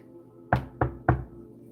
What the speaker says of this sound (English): Hold on. I'm gonna knock.